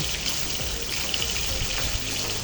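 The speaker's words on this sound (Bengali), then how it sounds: "আমি কিন্তু এদিকে মাছটা ভেজে নিচ্ছি সুন্দর মতো, যেহেতু হালকা ভাজা দিব" Hilsa fish fries in a pan with a steady, dense hiss and crackle of hot oil that runs without a break and holds the same loudness throughout.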